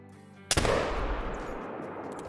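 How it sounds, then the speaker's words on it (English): A single sharp rifle shot in the hunting game Call of the Wild cracks loudly, then rolls into a long, fading echo across open terrain. "So I went for kind of a crazy shot there"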